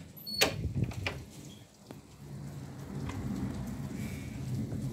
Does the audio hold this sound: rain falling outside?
yes